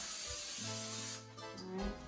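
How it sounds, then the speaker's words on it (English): Cooking spray hisses from a can into a 13 by 9 baking pan, a close, steady burst lasting about a second, followed by a softer second spritz. "I'm going to take a 13 by 9 pan and I'm going to spray it with cooking spray"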